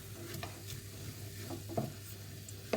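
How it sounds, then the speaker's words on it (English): Garlic paste being stirred into a salsa dip in a pan, soft steady sizzling with a few quiet scrapes and taps of the spoon against the pan, close and low in level, no talking. "Give that a mix around."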